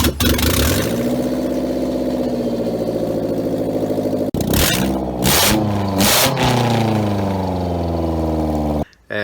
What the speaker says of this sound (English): but the car runs